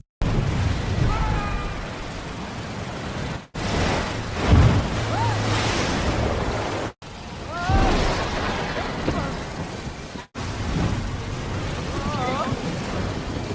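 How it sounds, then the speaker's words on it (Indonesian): A storm at sea with rain and thunder sends high waves crashing against a passenger ship, heard as loud, continuous roaring surf and wind broken by heavy booming impacts, with abrupt cuts between scenes. "hujan beserta petir dan gelombang ombak pun terlihat sangat tinggi menerjang kapal yang ditumpangi oleh mereka"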